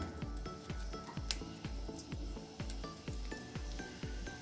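Torn dried red chili pieces frying in hot oil in a wok over lowered heat, a quiet steady sizzle broken by regular soft stirring scrapes about every half second.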